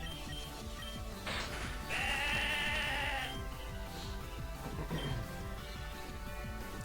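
A sheep-type Pokémon's bleat from the Pokémon Opalo video game, a synthesized wavering cry lasting about a second and a half over steady game music, with a few fainter electronic blips around it.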